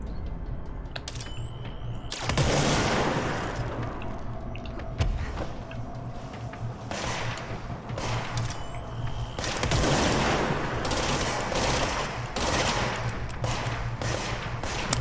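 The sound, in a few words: rapid gunfire in the video game Control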